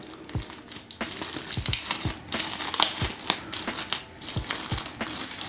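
Plastic packaging crinkling and crackling up close as an Anker 737 GaNPrime 120W 3-in-1 wall charger is unwrapped, with irregular bursts of rustling and a few sharper pops.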